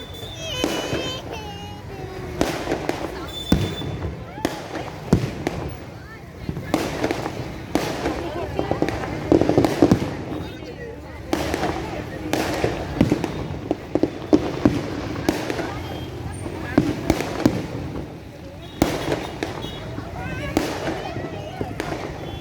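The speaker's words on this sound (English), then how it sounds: "From around four corners there are firecrackers." New Year firecrackers and fireworks go off at Miramar Beach, Goa: dense, irregular bangs and crackles from several directions, some near and loud, others distant, with people talking and celebrating over them.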